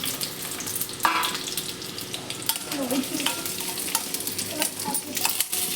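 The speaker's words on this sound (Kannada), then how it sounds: "ಇಷ್ಟನ್ನು ಚೆನ್ನಾಗಿ ಫ್ರೈ ಮಾಡ್ಕೊತಾ ಇದ್ದೀನಿ." Onion, garlic, ginger and green chillies fry in a few spoons of oil, a close crackling sizzle broken by irregular scrapes and clinks of stirring, with no one talking.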